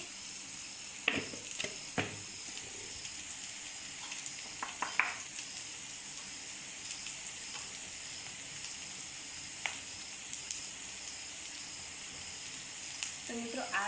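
Onion and cabbage curry sizzles quietly in a pan with a steady, faint frying hiss, broken by a few soft clicks and scrapes from the utensil.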